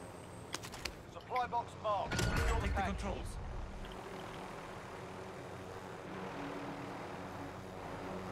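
A helicopter in Call of Duty: Modern Warfare, its rotor and engine drone steady in the background after a burst of gunfire and explosions, with players talking over the game.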